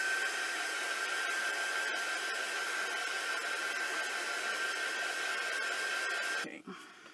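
A heat tool blows a steady, loud whir with a faint high whine, drying distress ink on a paper craft project; it runs alone for several seconds, then cuts off abruptly near the end.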